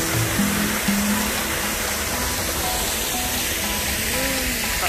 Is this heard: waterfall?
yes